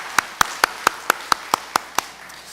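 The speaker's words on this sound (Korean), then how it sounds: "우리 2부 성가대 격려의 박수 한번 했으면 좋겠습니다" A church congregation claps for the second-service choir: about ten crisp, evenly spaced claps in a steady rhythm, fairly close and moderately loud.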